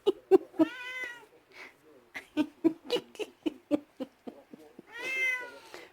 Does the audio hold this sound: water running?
no